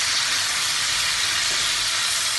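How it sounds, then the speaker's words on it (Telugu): Chicken pieces frying in hot oil, a loud, steady, close sizzle with a bright hissing texture and no breaks. "ఆయిల్ వేడెక్కింది కదండి, చికెన్ వీటిలో వేసి"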